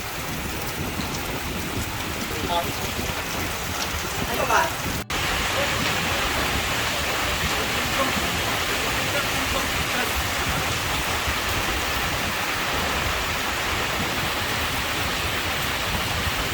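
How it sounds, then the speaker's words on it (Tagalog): Heavy rain pours steadily in a dense, constant hiss, with one sharp crack partway through and no voices. "Napakalakas talaga ng ulan."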